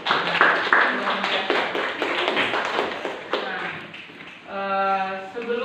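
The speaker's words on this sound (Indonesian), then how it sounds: "beri tepuk tangan untuk Siva dulu." Children in a classroom clap for a classmate during a school lesson: a burst of rapid, close applause for about three seconds that fades out, followed by a held tone at the end.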